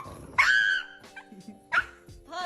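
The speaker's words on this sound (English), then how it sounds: "This pug has found his phobia. He just can't handle having his nails trimmed." A pug yelps and whimpers while its nails are being trimmed: two loud, high, drawn-out cries with quieter fussing between, close by, over a steady low hum.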